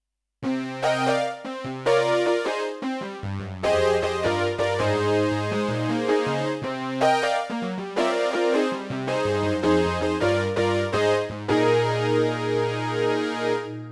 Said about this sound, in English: Now let's hear just some of the PCM synthesizer sounds.